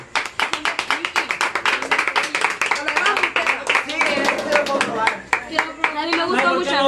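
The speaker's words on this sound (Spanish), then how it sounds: "Aplauso." Hands clap in a steady, brisk rhythm at close range, loud and continuous, with the pattern loosening and blending with voices toward the end during a home pozole cooking session.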